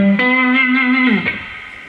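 A single electric guitar note played on a single neck pickup rings clear and sustained, then shifts briefly before decaying; a bright, undistorted tone played alone.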